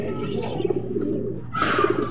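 A racing pigeon coos nearby on arrival, a few soft low repeated coos, clear and close with a faint rise of background noise near the end.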